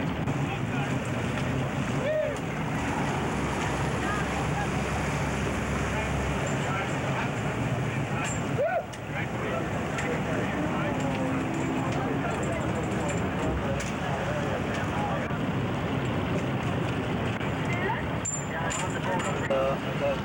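A police boat on open water during a 1989 Greenpeace nuclear-free-zone protest in Vancouver, heard as a steady engine and hull-on-water rumble with wind buffeting the microphone and wave wash throughout, fairly loud and continuous.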